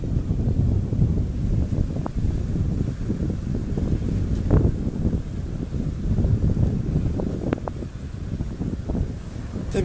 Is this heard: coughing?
no